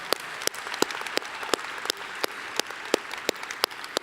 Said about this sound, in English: Please join me in applauding these exceptional students for all that they've accomplished at Norwalk Community College.